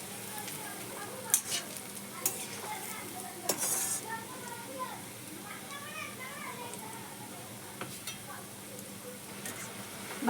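Crispy snack frying in a pan over low gas, stirred continuously with a steady sizzle and occasional scrapes and clinks of the spoon against the pan, with faint background voices.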